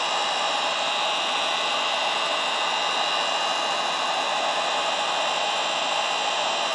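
A heat gun blows steadily at close range while softening and straightening plastic during a Mercury CTV-220A restoration, a loud, unbroken hissing roar with no change and no talking.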